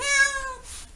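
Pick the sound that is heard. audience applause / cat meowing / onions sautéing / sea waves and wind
cat meowing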